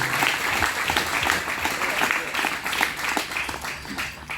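Audience applause at a student union gathering, a dense, continuous patter of many hands clapping that holds steady throughout, fairly loud and full.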